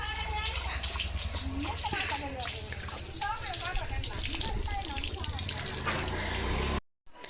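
A household tap runs in a steady, rushing stream with a gurgling splash, held at an even level while a person talks over it, then cut off abruptly near the end.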